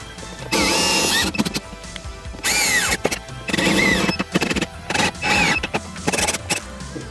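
Bursts of a power drill boring holes for rivet nuts in a car build, several loud whining runs separated by short pauses, with clattering handling sounds between them and no talking.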